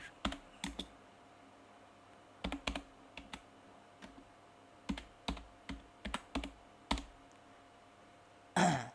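Bursts of keys tapped on a computer keyboard while a search is entered, irregular clusters of clicks separated by pauses, close and fairly quiet, ending with a louder brief noise.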